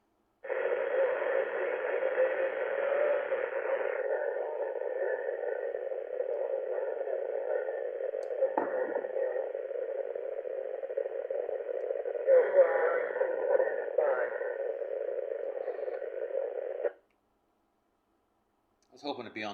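Steady hiss and static from a ham radio receiver during an on-air net runs for about seventeen seconds with faint clicks and brief bursts, then cuts to silence before a short final crackle.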